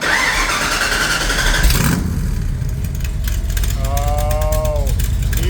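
A 1965 Shelby AC Cobra's engine cranks with a whirring starter, catches and fires, then settles into a loud, rough, close idle with rumbling pulses and a rising whine near the end.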